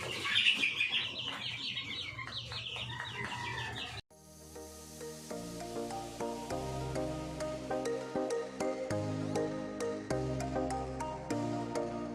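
Buff Orpington chicks chirp in a busy, overlapping chorus close by, with a sharp break partway through after which the calls continue as repeated high peeps.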